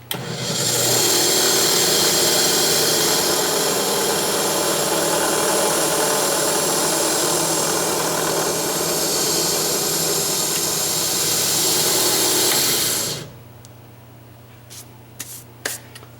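A makeshift lathe sped up on a homemade go-kart build project gives a loud, steady whirring roar that holds for about thirteen seconds, then cuts off sharply, leaving quiet room noise with a few faint clicks.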